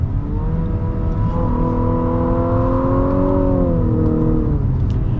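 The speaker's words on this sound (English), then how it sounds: "I think that's probably the best sounding 2-liter engine I've ever heard." A 2022 Infiniti QX55's 2-liter engine hums loudly and steadily, its pitch climbing and then easing back as it accelerates, heard up close without any voices.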